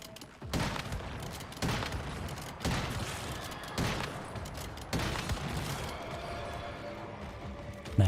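Gunfire from the video game Once Human, fired in repeated loud bursts about every second, each a sharp crack with a brief tail. No one talks over the shooting.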